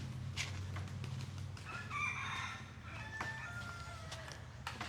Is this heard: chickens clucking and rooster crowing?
yes